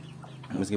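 Hens clucking in a traditional chicken coop where the laying hens have stopped laying eggs; a short, close burst of fowl calls rising near the end over a low steady hum.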